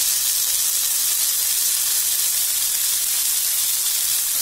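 Prawns with curry leaves frying in a hot pan, giving a steady, loud, continuous hiss and sizzle with no breaks and no voices.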